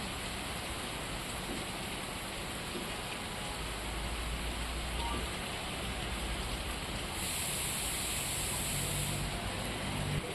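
Monsoon rain falls in Tapukara, Alwar, Rajasthan: a steady, dense hiss of rainfall with no break, moderately loud and spread evenly, with no voices over it.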